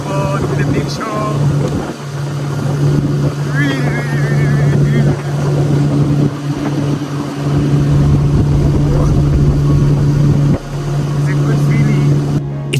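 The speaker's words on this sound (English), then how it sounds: "Just being on the boat, flying on the boat with a big show." A motorboat speeding on the Chobe River in Namibia drones steadily and loudly with rushing wind and water, while people talk and shout over it.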